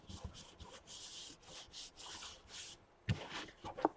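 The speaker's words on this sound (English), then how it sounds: "I do like to give it a good burnish." Masking tape burnished along a journal spine, rhythmic rubbing strokes in quick repeated bursts, close and fairly quiet, followed by a few sharper taps and scrapes.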